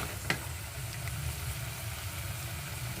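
Urad dal and spices sizzle in hot oil in a pan, a steady close frying hiss with a light clink near the start and no talking.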